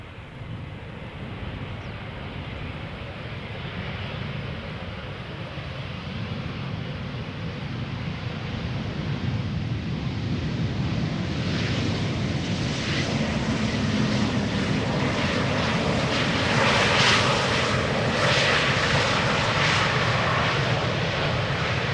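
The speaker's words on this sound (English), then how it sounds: "Next up, an Embraer 190 returning from Nuremberg." An Embraer 190 jet airliner landing at Schiphol's Polderbaan runway, a steady broad roar of jet engines that swells gradually louder and closer, heard outdoors with wind and no talk.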